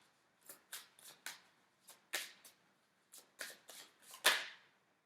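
Tarot cards shuffled for a reading, a string of about a dozen crisp, close riffling snaps in irregular quick bursts with short quiet gaps, the last one loudest, no voices.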